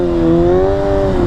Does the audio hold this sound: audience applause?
no